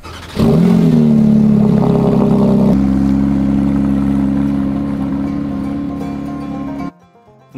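Crash-damaged Porsche GT3 on a long road trip, engine loud and close as it accelerates with a sharp rev, then holds a steady droning cruise before cutting out abruptly near the end.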